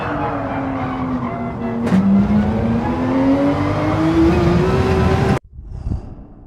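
A race car at Brands Hatch in Gran Turismo 7 on hard tires, its engine rising steadily in pitch as it accelerates hard out of a corner, loud and close, cutting off abruptly near the end.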